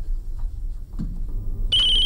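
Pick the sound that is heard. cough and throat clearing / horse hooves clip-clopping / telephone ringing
telephone ringing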